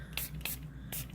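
Quick hissy bursts of spray aimed into resin cups during chrome powder resin work, three short puffs at close range over a low steady background hum.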